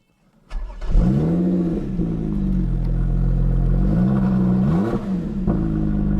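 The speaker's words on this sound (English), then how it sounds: "press the button, hit the engine start key," A Lotus Evora 400's supercharged V6 engine cranks and fires up, then settles into a loud, rumbling idle with a couple of sharp revs rising and falling.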